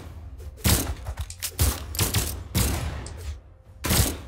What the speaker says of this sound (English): It's a gun battle right now, as you can see